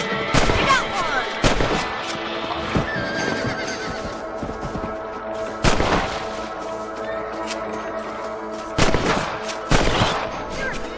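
Rifle gunshots ring out in the Red Dead Redemption video game: around half a dozen sharp, loud cracks spread unevenly over steady game ambience, with horse whinnies mixed in.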